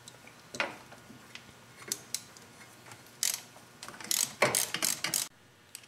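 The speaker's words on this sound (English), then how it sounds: "the next step is to remove the drain plug for the transmission and let all the fluid drain out" A ratchet wrench clicks in quick bursts while loosening the transmission drain plug on a Harley-Davidson Big-Twin motorcycle. The sharp, close metallic ratcheting comes in several uneven runs, loudest near the end, with no talking.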